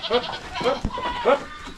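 A goat with a large belly bleats several times in short, nasal calls, close by and clear, with faint background sounds between the calls.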